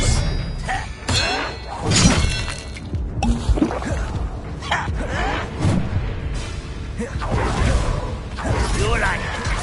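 A disarming spell cast in Hogwarts Legacy lands amid a busy fight, with repeated thuds, whooshes and shattering bursts over continuous game combat noise while voices talk throughout.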